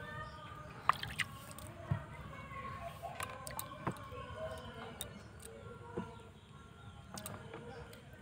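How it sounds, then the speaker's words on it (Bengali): Storm-fallen mangoes are washed in water, with faint drips, soft sloshes and scattered small knocks at irregular intervals, quiet and close. "এবারে আমি এই আমগুলো প্রথমে জল দিয়ে ধুয়ে নিচ্ছি"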